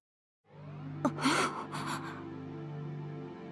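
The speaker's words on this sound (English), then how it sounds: "Beside me, I hear Ichijo gasp" Sharp breathy gasp from a character in the visual novel Full Metal Daemon Muramasa, a short intake over a steady low background hum, heard close and fairly quiet.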